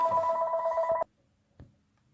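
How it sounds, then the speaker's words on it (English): Landline telephone ringing indoors, a single electronic ring tone held for about a second that cuts off abruptly, followed by a faint click and then near silence. "Apologize for the phone."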